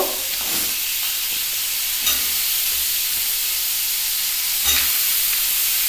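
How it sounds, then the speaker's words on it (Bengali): Sliced potatoes for aloo posto fry in a pan with a loud, steady sizzle and hiss. A few brief louder bursts rise through it, and no one speaks. "এবার আলুগুলো ডুবু ডুবু করে কেটে রেখেছি এটা আমি যখন ভেজে নেব"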